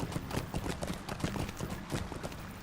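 Horse hooves clip-clop in a steady, quick rhythm while riding a mount in the online game Lord of the Rings Online, the beat fairly loud and continuous throughout with no talking.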